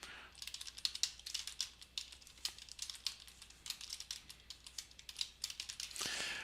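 Someone types on a computer keyboard while writing in a Google Docs document. Quick, irregular bursts of soft key clicks run throughout, ending in a slightly louder rustle.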